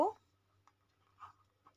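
A pen writes on paper in a few faint, short scratches spread over a couple of seconds, following a brief spoken sound at the start.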